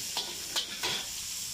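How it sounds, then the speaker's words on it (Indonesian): Nasi goreng fries in a wok at a cafe in Kampung Melayu Sungai Tiram: a steady hiss of sizzling carries three quick scraping stirs in an even rhythm, with no one speaking. "Ini masak nasi goreng."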